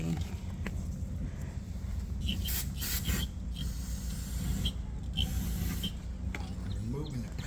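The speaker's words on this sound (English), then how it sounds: "They're packing in oil to keep it from rusting in the store. Okay. I'm removing that." A rag rubs and wipes packing oil off new rod bearings and the rod bearing cap during a Kia engine repair, giving a continuous close rasping, scrubbing sound with a few sharp clicks in between.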